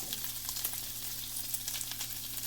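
Bacon frying in a pan for a mostaccioli sauce, a steady close sizzle with fine crackling pops running without a break and no voices over it.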